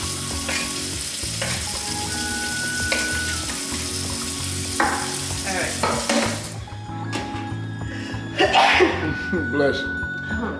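Beef sizzles and fries steadily in a pressure cooker pot while someone stirs, and partway through a sharp sneeze bursts out nearby over the constant crackle, with people talking.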